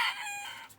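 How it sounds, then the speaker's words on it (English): A sick young rooster in an aviary gives a short, bright crow, close and fairly loud, with a slight fade at the end and no other sounds. "Where's this sick little rooster?"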